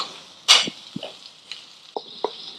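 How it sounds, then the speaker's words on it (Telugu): Chicken pieces for Guntur chicken fry, stirred with masala over a high flame. A few sharp, close scrapes and clacks of a spoon against the pan stand out over a faint sizzle. "హై ఫ్లేమ్ మీదే బాగా ఈ మసాలా అంతా ఈ ముక్కలకు పట్టేటట్టు బాగా కలుపుకోవాలన్నమాట"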